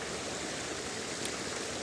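Water pours at the foot of a morning waterfall among ferns, a constant broadband rush heard close and alone.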